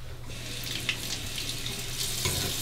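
A Rockwell Model T safety razor is rinsed under a running tap, giving a steady hiss and splash of water with brief clatters as the razor moves in the stream.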